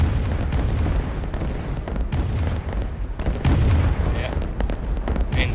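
Artillery fire in the strategy video game Rise of Nations: a dense, continuous barrage of booms and bursts with sharp repeated impacts, loud and steady throughout, with no clear pauses.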